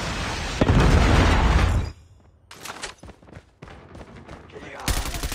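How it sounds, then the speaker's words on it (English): A predator missile strike in the mobile shooter Call of Duty Mobile lands as a heavy, booming explosion that rumbles for about a second, followed by scattered gunfire pops and another loud burst at the end. "Friendly predator missile inbound."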